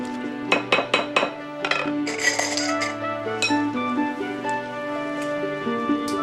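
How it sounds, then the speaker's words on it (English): A spoon clinks repeatedly against a glass or ceramic bowl while mint and salt are stirred into raita, giving bright, close ringing taps in an irregular rhythm with no talking. "All I need to do is just stir this all together."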